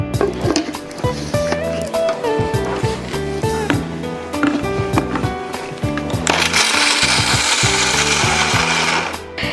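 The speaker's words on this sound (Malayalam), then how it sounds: "ഇനി ഈ ഡേറ്റ്സ് ഒന്ന് നമ്മൾ ഈ മിക്സിയുടെ ബൗളിലേക്ക് ഇട്ടിട്ട് അരച്ചെടുക്കണം" A kitchen mixer grinder blends dates, starting with loud, jerky pulsed bursts and rattling of the jar, then running continuously with a harsher, whining grind toward the end.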